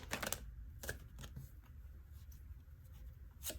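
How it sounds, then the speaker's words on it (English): Tarot cards shuffled by hand in irregular papery bursts, with sharp riffles at the start and end and softer rustling between, close and fairly quiet, with no talk over it. "I'm going to keep shuffling."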